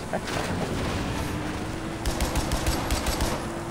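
Video game gunfire in Far Cry 4 rolls as a dense, constant roar that turns into rapid, repeated bursts of shots during the second half.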